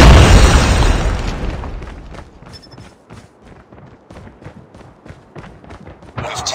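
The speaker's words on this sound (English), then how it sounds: "Watch out! Grenade!" A grenade blast in Call of Duty Mobile opens with a loud, broad boom that decays over about two seconds, followed by quieter rapid footsteps and small clatters, then another burst of noise near the end.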